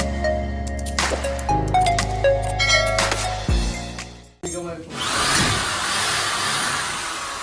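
A power drill is used while building out a room with a ceiling: a steady motor whine shifts in pitch for several seconds, then a broad rushing noise takes over.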